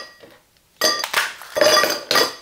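Ice cubes dropped into a glass for an iced matcha drink, a quiet rattle then several bright, loud clinks in quick bursts, close up with no talking.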